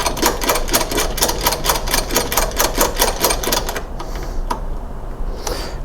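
A Dewalt 5-in-1 hacksaw, model DWHT20547L, is tightened after its blade is refitted, giving a rapid run of sharp, regular mechanical clicks that stops partway, followed by a couple of faint taps.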